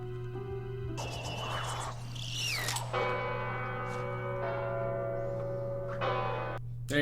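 Church bell ringing in a Hawkeye episode, a steady sustained toll with a low hum beneath and shifting tonal layers, moderately loud throughout.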